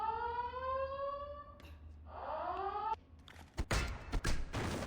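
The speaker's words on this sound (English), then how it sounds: "Guy's calling an alarm for literally no reason." A rising, wailing electronic siren blares as a guard raises the alarm in a Spy vs Spy video game. It repeats in sweeping tones, then cuts into a burst of clattering game effects.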